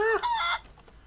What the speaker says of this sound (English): Uncle Billy, we got chickens.